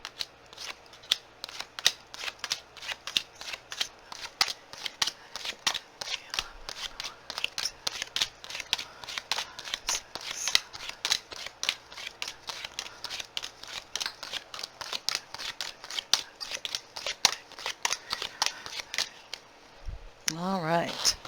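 Tarot cards shuffled in quick, steady riffling bursts, dense crisp flicks running continuously up close, ending with a few cards laid down and a brief shift of handling.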